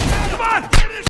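Gunfire bursts in a tense film shootout, sharp cracks at moments amid a dense, rumbling battle mix, with one strong blast near the end and another quick hit right after.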